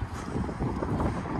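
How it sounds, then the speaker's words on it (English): Steady wind buffeting a microphone at an outdoor salvage yard, a continuous low roar with gusty swells throughout. "Oh, it's so windy."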